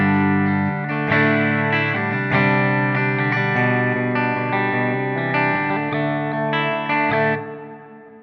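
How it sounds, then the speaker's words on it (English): Electric guitar played through a Blackstar ID:X 50 amplifier with hall reverb engaged, sustained distorted chords ringing out one after another, each tail blooming into a spacious wash before the sound fades at the end. "We've got reverb, hall."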